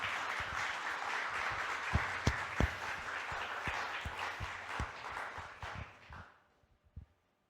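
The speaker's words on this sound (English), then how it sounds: "let's give a round of applause to all the organizers and everyone involved" Conference audience applauding the organizers, a steady wash of many hands clapping with a few sharp nearby claps standing out, then tapering off to near silence at the end.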